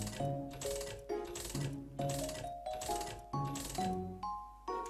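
Coins clink one after another into a donation machine in The Binding of Isaac, about nine bright metallic drops in a steady rhythm with small tonal chimes, close and clear with no talk.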